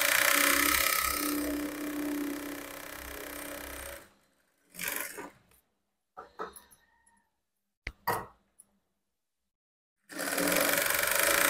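A sewing machine stitching a blouse seam runs in a loud continuous whir for about four seconds. Several short bursts of stitching follow with pauses between them, and then the steady run resumes near the end.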